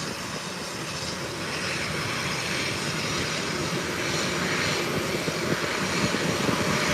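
An airplane taking off at Howard Hamilton International Airport gives a steady broadband engine roar that swells gradually, heard from a distance outdoors with no one talking.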